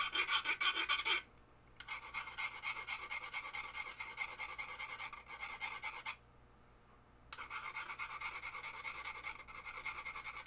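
A hand file rasps against the metal plunger of a 1973 Williams pinball machine as it is spun to cut a bevel, in steady scraping strokes that stop briefly twice, with no voices.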